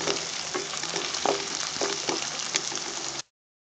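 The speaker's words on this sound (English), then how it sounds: "Just saute this for a few minutes" Minced meat kheema with chili powder, coriander powder, garam masala and turmeric sizzling in a pan, a steady close fry with a few light stirring scrapes, ending abruptly.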